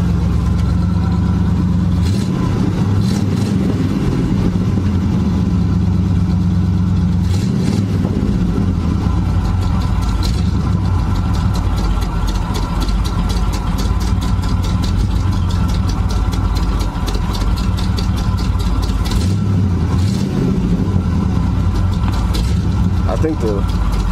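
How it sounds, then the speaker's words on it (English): A 1976 GMC Sprint engine idles high at a steady, loud, close-up rumble with a faint rhythmic pulse throughout, while someone talks over it. "I kind of got it idled up high because I wanted it to suck that gas through there."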